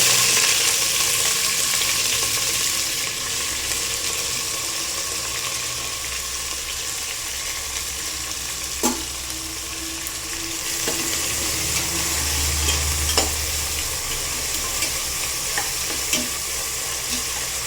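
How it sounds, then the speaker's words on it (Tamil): Onions frying in hot oil with cinnamon, cloves, cardamom and fenugreek, stirred in a pan for goat head curry: a steady close sizzle with occasional scrapes and clinks of the spoon, no talk. "நல்லா வதங்கணும், சிவப்பாகிற அளவுக்கு வதங்கணும் வெங்காயம்"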